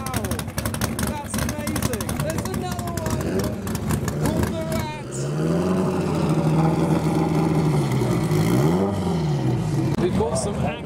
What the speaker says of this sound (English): We've got some actual drag cars lining up to have a go on the strip.